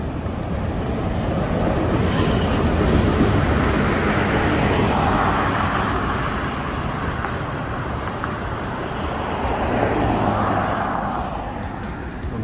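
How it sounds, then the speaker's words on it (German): A train passes below a hillside near a station and motorway, a broad, steady rumble that swells and fades across the whole stretch, with traffic noise blended in. "Und unten, oh, kommt noch ein Zug."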